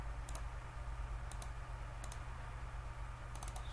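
Several sharp mouse clicks, including a quick double click, in a Photoshop design session, sparse and fairly faint over a steady low hum.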